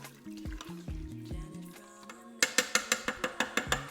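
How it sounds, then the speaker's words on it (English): Chicken feet stirred in a pot, with a few soft scraping turns under faint background music, then a run of about ten quick, evenly spaced clicks close by. "Let's give this a little stir."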